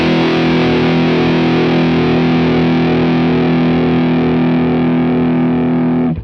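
An electric guitar through a Mooer Preamp Live on its Kali LS channel plays a smooth, saturated distorted lead tone, a sustained chord-like note held loud and steady for several seconds before cutting off abruptly.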